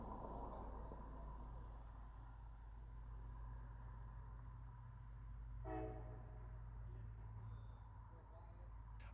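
A CSX freight train rumbles steadily at a distance crossing a bridge over the Kentucky River, with a couple of brief high squeals and a faint horn-like tone over the low drone.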